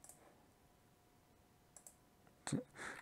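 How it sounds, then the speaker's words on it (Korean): A computer mouse clicks a few times during cryptocurrency wallet setup on a computer, a couple of soft isolated clicks near the end followed by a brief louder burst, over quiet room tone. "이걸 클릭을 합니다"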